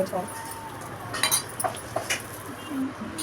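A ladle scraping and clinking in a pan as chana dal and lentils are dry-roasted for curry leaf powder, scattered light metallic taps and stirring, with someone speaking over it.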